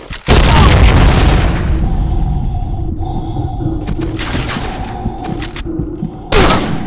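A grenade explodes in the online shooter Point Blank with a loud, sustained boom that rumbles and fades over several seconds, then a sharp burst of gunfire near the end.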